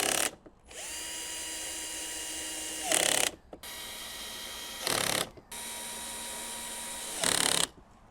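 A power tool drives a bolt tight on a Can-Am Spyder windshield bracket, a loud steady whirring hum in three long runs broken by brief louder ratcheting bursts.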